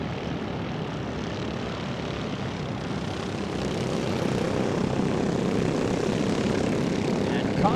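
Off-road racing karts (R&R Steel JR2 class) roaring around a dirt track in Arizona during a Lucas Oil regional race, a dense, steady engine drone from several machines that swells slightly louder midway and holds.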